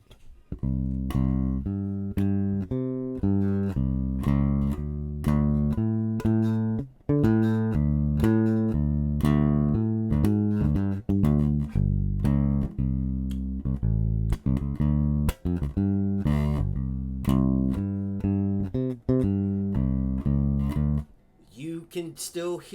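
A low, plucked bass line walking steadily through the changes of a jazz tune, moving note to note in an even pulse, with occasional brief gaps, sounding close and clear.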